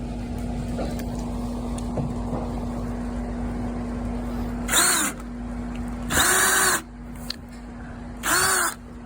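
A power drill boring a 3/8-inch hole sized to fit rope, heard in three short, loud whirring bursts separated by pauses, over a steady low background hum.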